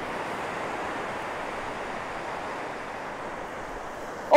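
Big ocean surf breaking on a beach where people are fishing for surf perch, a steady broad roar of waves and wind holding at even loudness throughout, with a brief louder bump right at the end.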